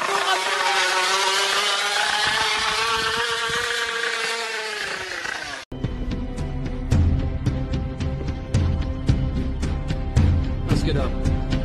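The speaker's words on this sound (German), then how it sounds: "Wir haben ein kurdisches Motorrad." A motorcycle revs in a drawn-out, rising and falling whine for about five seconds. It cuts off abruptly and gives way to loud, beat-driven music.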